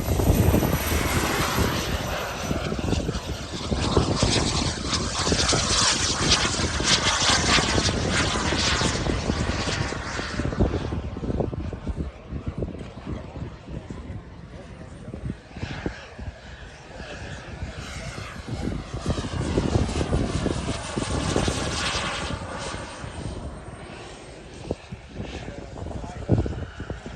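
A fixed-wing airplane at an air show comes down for landing, its engine droning loud and steady throughout with rising and falling intensity, while people talk over it.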